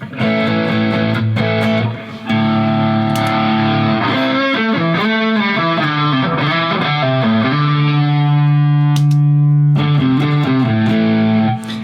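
Electric guitar driven hard through a boost pedal, loud and saturated, playing a chordal riff then a sustained chord ringing out, no talking.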